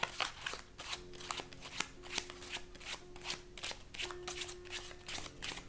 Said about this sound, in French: tu vas prendre le gros, tu vas mélanger à la française comme ça